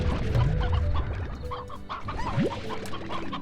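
Chickens cluck in the video game Slime Rancher, a busy run of repeated clucks over a dense game soundscape with a steady low rumble and occasional higher tones.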